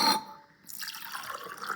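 Water poured from a glass into a small ready-to-grow planter pot while seeds are being planted, a short watery splash and trickle that fades, then a soft continuing pour close by with no talk.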